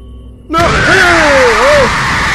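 A loud, drawn-out monstrous scream erupts suddenly in the game Survivers and wavers in pitch over a rumbling, noisy game soundtrack, holding strong for about two seconds.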